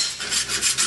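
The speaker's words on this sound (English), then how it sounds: "rubbing it across, and that will remove the burrs." Deburring tool rubbed across aluminum aircraft tail-kit parts, a close, continuous dry rasping scrape with a few rhythmic strokes and no talk.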